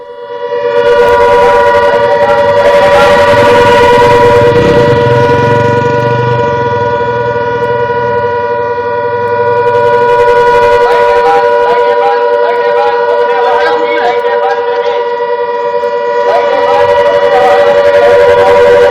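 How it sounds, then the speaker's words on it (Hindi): A loud, sustained air-raid siren wails continuously for the whole stretch in Barmer, India, steady and piercing, with faint voices underneath. "सायरन की आवाज आप सुनिए"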